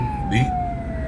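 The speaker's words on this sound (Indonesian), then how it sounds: "dikeluarkan oleh suara sirine dari ambulan." An ambulance siren tone sliding slowly downward, heard briefly and moderately loud over a low rumble of busy night traffic, with a short voice-like burst near the start.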